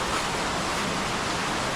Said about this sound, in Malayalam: ഭയങ്കര മഴ.